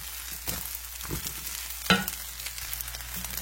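Leafy vegetable greens fry in a pan while being stirred, a soft steady sizzle with scattered scrapes and one sharper clatter of the utensil against the pan.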